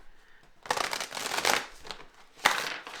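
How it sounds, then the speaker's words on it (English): Light Seer's Tarot cards shuffled by hand in a few quick riffling bursts, close and crisp, with a sharper snap near the end and no talking. "Let's do a couple shuffles here with my Light Seer's Tarot"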